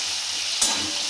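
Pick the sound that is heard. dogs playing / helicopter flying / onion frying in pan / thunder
onion frying in pan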